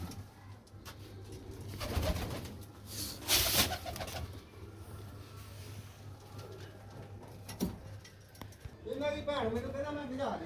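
Pigeons coo softly nearby, the clearest calls near the end, while people talk over them.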